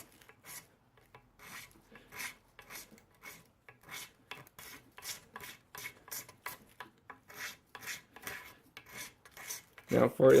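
A blade scrapes across an Osage orange wood ring in a run of short, rhythmic rasping strokes. The strokes are close and fairly quiet, separated by brief pauses, with a louder handling knock at the end.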